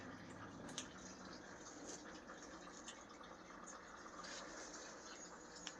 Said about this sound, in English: So while I wait for the coolant to drain